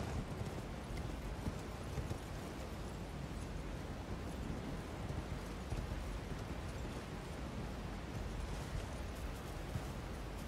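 Hooves of a horse clip-clopping in a video game, a steady continuous trot under a dense rumbling background that stays constant throughout.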